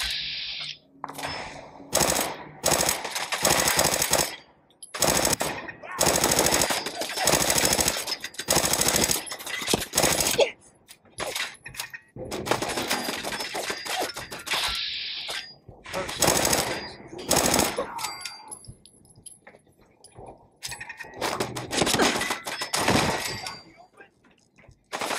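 Fallout 4 gunfire chatters in repeated rapid automatic bursts separated by brief silences, loud and close, with a voice speaking between volleys.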